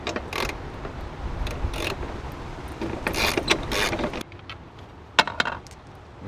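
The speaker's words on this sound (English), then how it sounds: "Remove some bolts" Bolts on a Jeep Wrangler's Teraflex tire bracket are loosened with a ratcheting tool, giving steady mechanical clicking and scraping close by, with a few sharp metallic knocks near the end.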